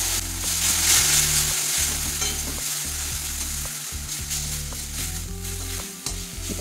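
Turmeric, coriander, cumin and red chilli powder masala with a splash of water frying in oil in a pan for a fish curry, a continuous close sizzle with occasional stirring scrapes, no talking.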